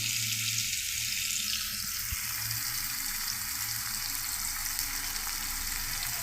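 Potato bhaji frying in a pan on a home stove, a steady close hiss of sizzling oil that holds evenly throughout, with a faint low hum underneath and no talking.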